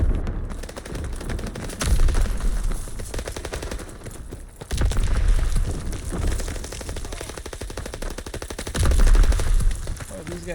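Rapid gunfire in the Call of Duty video game, sustained automatic bursts rattling continuously with heavier, louder surges at intervals, dense and close throughout.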